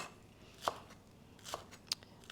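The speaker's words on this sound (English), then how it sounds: "So there we go, thinly sliced green onions." Knife slicing green onions thinly on a board, three sharp, isolated chops spaced out over a very quiet background, close up and faint, with no talking.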